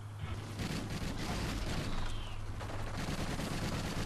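Sustained rapid gunfire in a Call of Duty match, a dense continuous rattle of shots with low rumbling impacts, loud throughout with brief voices mixed in.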